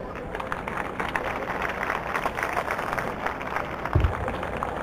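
Audience at a founder's tribute event applauds a founder president, producing a steady, dense wash of clapping that holds evenly throughout with no voices over it.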